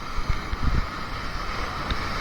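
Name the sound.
strong waves at Zambales beach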